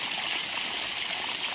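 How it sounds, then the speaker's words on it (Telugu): Black water pours steadily from a newly drilled borewell on a farm, a continuous, dense hiss of flowing water, close and constant with no talk. "చూడండి, బ్లాక్ వాటర్ వస్తున్నాయి."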